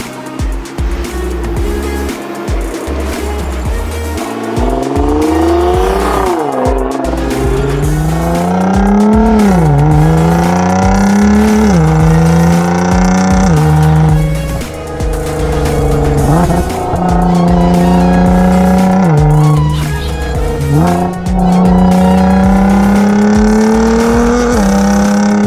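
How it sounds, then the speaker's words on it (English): Nissan GT-R driven hard on winding roads, its engine loud and close throughout, revving up through the gears with rising pitch sweeps and sharp drops at each shift, no talk over it. "we're going to drive the GTR on some fun roads"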